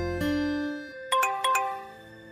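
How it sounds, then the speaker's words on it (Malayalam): A phone that has just come off airplane mode sounds a run of electronic message notification tones: one longer tone, then four quick, bright pings close together. "ആരാ നിനക്ക് ഇങ്ങനെ തുടർച്ചയായി മെസ്സേജ് ചെയ്യുന്നത്?"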